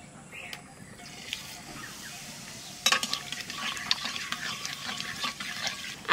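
Nigella seeds (black cumin) go into hot oil for mango kasundi pickle, setting off a sudden crackling sizzle that builds and keeps popping, with a voice speaking faintly under it.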